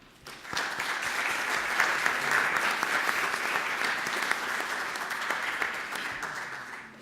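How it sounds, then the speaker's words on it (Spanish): Steady applause from a large crowd at a book presentation, which swells quickly, holds for several seconds, then tapers off. "Para todos ustedes, respetuosamente, suplicamos sus aplausos."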